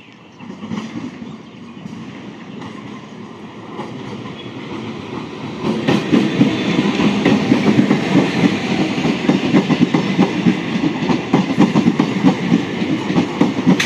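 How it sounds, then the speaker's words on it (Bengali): A 12-coach Sealdah–Naihati up local train passes close by, its rumble building into loud, rapid clickety-clack of wheels over rail joints that continues to the end. "এটা হলো 12টা কুড়ির আপ শিয়ালদা নৈহাটি লোকাল। এটাও 12 বগির ট্রেন।"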